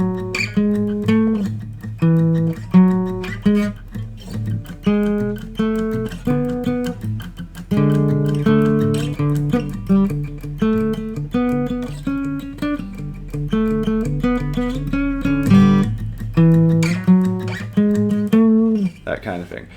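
Guitar picks through the second verse of a song, with rhythmic picked notes over a low droning open string, close and steady for about twenty seconds.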